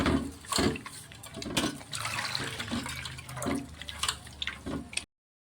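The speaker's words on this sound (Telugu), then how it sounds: "వాటర్ పోసి రెడీ చేసి పెట్టుకోవాలండి." Water is poured into mashed tomatoes for tomato charu, splashing and gurgling close by in uneven bursts for about five seconds, with no talking.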